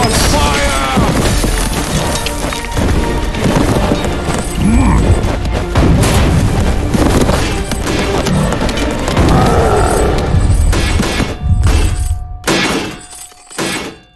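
Archers fire during a big battle in the video game Stick War Legacy, with loud crashes, shattering impacts and booms piled into a dense, chaotic roar that thins out near the end.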